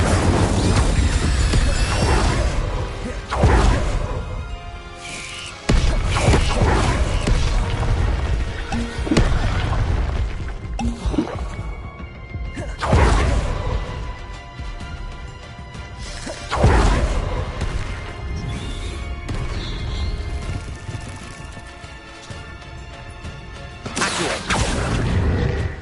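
Spell blasts from a Harry Potter–style video game, fire and ice spells cast in quick succession: loud whooshing bursts, booms and crashing impacts that come in dense waves across the whole stretch, with no talking.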